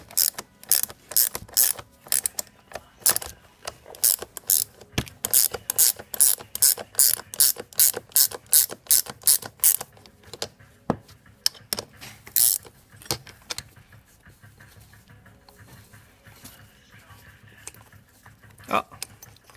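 Rapid bursts of ratchet-wrench clicking while loosening a fitting on a Volkswagen Transporter T4 steering rack during a bushing replacement, close and loud in several runs, then sparser clicks and small metallic knocks.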